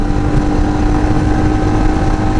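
A Royal Enfield Himalayan BS6 motorcycle, 2021 model, cruises in fourth gear near 100 km/h with a steady, loud engine hum buried in heavy wind rush.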